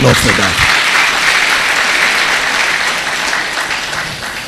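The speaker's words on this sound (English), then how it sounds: "I think we deserve an applause for that." Audience applause at a university medical laboratory science induction and oath-taking ceremony, a steady wash of many hands clapping that begins loud and slowly fades over a few seconds.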